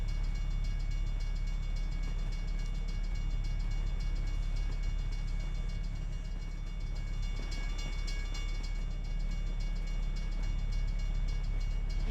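A long train passes in a truck-driving video game with a realistic train length mod, giving a steady, loud rumbling roar with rail clatter that continues throughout without a break.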